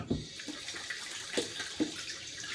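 A bathroom tap runs while someone wets their face before shaving, a steady hiss of flowing water broken by a few soft splashes and slaps of hands, no talking.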